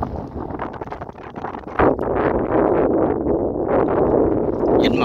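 Strong wind from storm number 4 sweeps over floodwater, producing loud, continuous gusting and buffeting against the microphone, with rustling and a sharp surge partway through.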